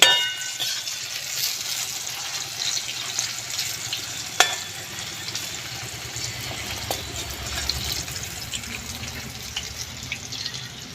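Okra sizzling steadily in hot oil as the fried pieces are scooped out, a continuous close crackling hiss broken by occasional sharp clinks of a metal utensil against the pan.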